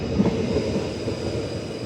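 Train passing at McIver Station in Perth, a loud continuous low rumble and rolling rail noise, steady across the short moment with no voices.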